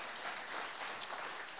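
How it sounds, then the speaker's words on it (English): Church congregation applauding during a Sunday service, a steady dense wash of many hands clapping that fills the whole moment with no voices over it. "Clap your hands if you believe that."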